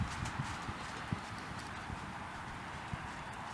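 Horse hooves clip-clopping in a steady rhythm during an intermediate riding lesson in an arena, moderately near against a constant background hiss.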